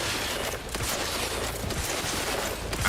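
Gunfire in The Outer Worlds 2, a dense, continuous rattle of rapid shots and impacts filling a short burst, loud and close with no clear speech.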